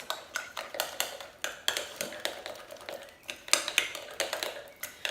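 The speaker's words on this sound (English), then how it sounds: "So mine's a bit lumpy, so I'm going to have to get a whisk in that" Lumpy tortilla batter being whisked in a bowl, a steady close rhythm of quick metallic taps and scrapes against the bowl's sides, repeating without pause.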